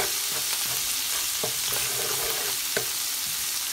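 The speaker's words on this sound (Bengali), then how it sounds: "আমি মশলাটা আর একটু ভালো করে কষিয়ে নিলাম" Spice paste sautéing in a pan for tilapia curry, a loud steady sizzle broken by a few sharp utensil scrapes and taps.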